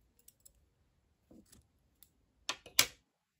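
Scissors cut crochet yarn: a few faint clicks, then two sharper, louder snips close together near the end, in an otherwise quiet room.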